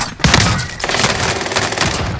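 Rapid video game gunfire, a close, loud burst of automatic shots with sharp cracks in quick succession over a short stretch.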